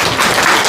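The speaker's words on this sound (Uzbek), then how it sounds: "Ota-onalarimizga qarsaklar bo'lsin." Loud applause for the parents fills a school alphabet celebration hall, a dense continuous clapping crowd with no break.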